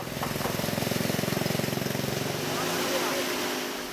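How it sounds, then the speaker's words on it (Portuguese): A chainsaw buzzes steadily with a rapid pulsing rhythm, then smooths into a continuous drone; loud and close throughout. "Hora do martelo e da motosserra."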